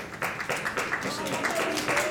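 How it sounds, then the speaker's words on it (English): A small group claps at an outdoor horse riding lesson, a quick run of light, fairly faint claps with a voice speaking over them. "let's clap again"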